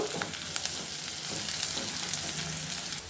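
Onions fry in a pan for mango dal, giving a steady, close crackling sizzle with small pops and occasional stirring scrapes, unbroken and without any voices.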